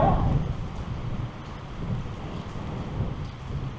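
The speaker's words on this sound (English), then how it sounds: "I choose this day because it's windy as hell" Steady gusting wind buffets the microphone with low rumbling roar, swelling and easing in waves throughout, no voices present.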